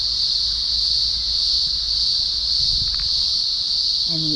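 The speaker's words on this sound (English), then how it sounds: "And the ever-present cicadas." Cicadas drone continuously and loudly in the Blue Mountains near clear mountain water, a steady high-pitched buzz that stays unbroken throughout, with no one speaking.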